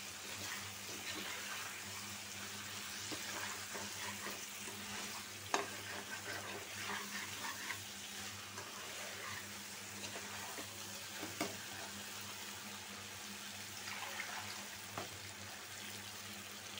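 Chicken stir-frying in a pan, a soft continuous sizzle with faint stirring scrapes and occasional small knocks, steady and fairly quiet throughout.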